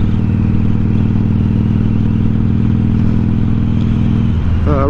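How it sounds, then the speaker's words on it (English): A Harley motorcycle engine rumbles loudly and steadily up close, a deep throbbing idle that runs for about five seconds before a quick rev bomb flares at the very end. "Rev bomb."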